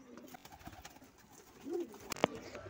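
Pigeons cooing nearby, with a soft, brief coo and a few faint rustles, ending in a sharp click-like sound, quiet overall.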